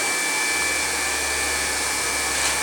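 A Crain 965 hot air welding tool blows steadily while finishing off a seam weld, a loud continuous airy hiss with a faint high whine running alone and unbroken throughout.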